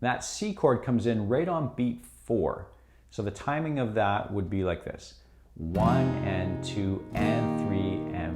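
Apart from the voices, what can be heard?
No everyday noise stands out behind the speech.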